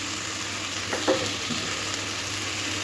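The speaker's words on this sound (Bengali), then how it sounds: "দিয়ে সবজিটা ভালো করে কষে নেব।" Papaya and potato vegetarian curry stir-fried with spices in a pan, giving a steady close sizzle with a few faint scraping stirs.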